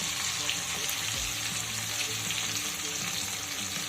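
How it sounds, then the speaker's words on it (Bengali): Tomato fries in oil in a pan for a bhola fish curry, giving a constant, close sizzling hiss with light stirring. "এক মিনিট টমেটোটা ভেজে নেওয়ার পরে আমি দিয়ে দেব সর্ষে কাঁচা লঙ্কার বেটে রাখা পেস্টটা"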